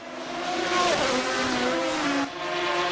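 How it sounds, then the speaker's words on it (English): Aston Martin race car in the Assetto Corsa racing game, its engine roaring loud and steady with rising and falling revs through gear changes, a brief dip near the end before it climbs again. "Oh, the sound of that Aston Martin, by the way."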